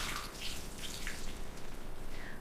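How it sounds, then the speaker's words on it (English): A sink tap runs with a steady, broad splash of water and a few brighter drips and trickles on top, fairly close and with no voice. "I turn on the water."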